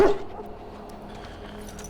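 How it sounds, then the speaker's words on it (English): A big dog in Dragon Age: Origins gives a single short bark or yip at the start, then fades into quiet game ambience. "Okay, that's a big dog."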